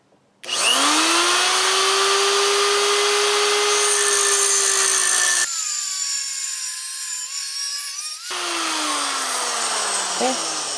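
A power cutting tool grinds through a small nub on a metal front motor mount brace for a WR250E, a loud continuous whine with a steady tone that drops and shifts as the cut progresses, close up.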